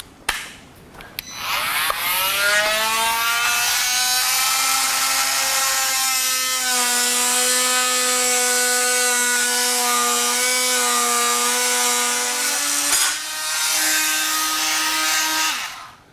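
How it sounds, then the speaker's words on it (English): An oscillating multi-tool cuts off material while a Nussbaum Jumbo HF 7 scissor lift is installed, giving a loud, steady buzzing whine that runs about thirteen seconds with a short dip near the end and no talking. "Okay, so that will just multi-tool it off."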